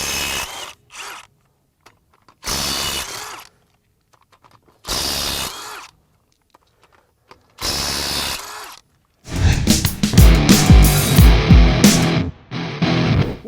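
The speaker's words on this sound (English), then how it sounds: "We've got Ridgid's brand new mid-torque impact wrench." Ridgid R86012 mid-torque impact wrench, a four-mode tool: several short, loud bursts of whirring and hammering with silent gaps between them, then a longer sustained stretch of heavy rattling impacts near the end.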